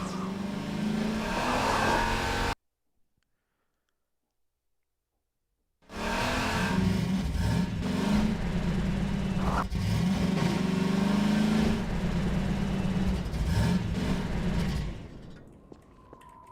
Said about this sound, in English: The audio for the Buggy was challenging because we wanted to feel like a really powerful vehicle that's driving along at super high speed